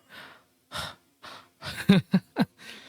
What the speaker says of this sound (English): you guys are able to hear like me taking breathing